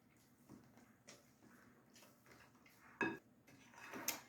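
Vanilla is stirred into cake batter for a sour cherry cake, a few soft, scattered taps and scrapes of a utensil against the bowl, quiet and close, with a sharper clink near the end.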